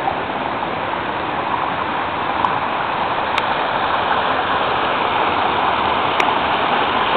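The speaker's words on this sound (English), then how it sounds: "I thought Pete might enjoy to see the waterfalls" Kamaniskeg waterfall pours in the rain, a loud, steady, close roar of rushing water that never lets up, with no talking.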